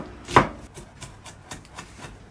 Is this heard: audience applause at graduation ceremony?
no